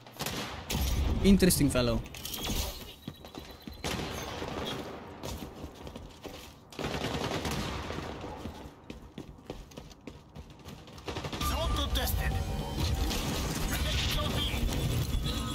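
Shotgun blasts in the online shooter game XDefiant come in loud bursts among busy game sounds, while a player talks over the action.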